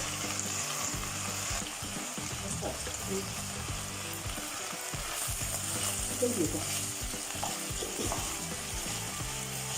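Pork dry-fries in a pan as its water cooks off, a dense continuous sizzle and crackle with occasional stirring scrapes, and a voice talking faintly in the background.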